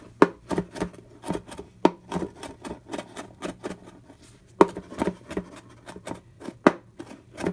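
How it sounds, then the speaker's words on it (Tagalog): A knife finely chopping five garlic cloves on a board, close crisp taps in a quick irregular rhythm with a few louder strikes, no talk. "mag-chop lang tayo ng 5 cloves of garlic. Chop it finely like this."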